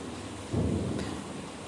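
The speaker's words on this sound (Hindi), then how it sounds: "देखो यार बारिश हो रही है, बादल गरज रहे हैं, आवाज़ भी आ रही होगी" Thunder rumbles through steady rain, a low roll swelling up after a moment and holding for about a second before easing back into the continuous wash of rainfall.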